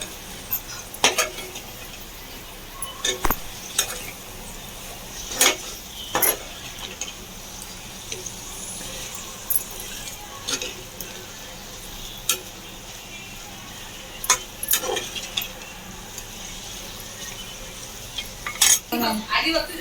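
Veg biryani being mixed in a pressure cooker, a spoon scraping and clinking against the metal pot in irregular strokes over a faint sizzle, with sharp taps at intervals and no speech.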